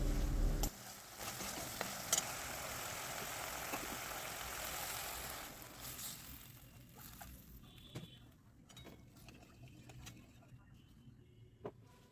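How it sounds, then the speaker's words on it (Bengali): Spiced pomfret gravy with green chillies and added water cooks in a pan, a soft steady sizzle and bubbling with a few light clinks, louder at first and then settling to a quieter simmer. "তারপর পরিমাণ মতো জল দিয়ে এটা একটু ফুটিয়ে নেব"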